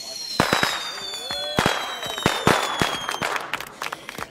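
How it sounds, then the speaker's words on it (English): Village fireworks in a radio drama crackle and bang in rapid irregular bursts, with whistling rockets rising through the volleys; people speak over the display at times. "We were supposed to have silent fireworks, but they weren't."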